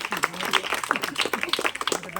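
A crowd claps along at a village street magic show, scattered and uneven rapid hand claps mixed with overlapping voices and chatter.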